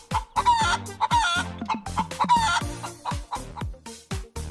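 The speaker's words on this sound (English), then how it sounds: "Chicken." Chickens cluck in quick, busy bursts close by, with a rooster crowing among them, all loud and steady throughout.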